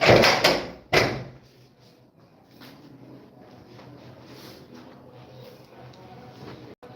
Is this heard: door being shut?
yes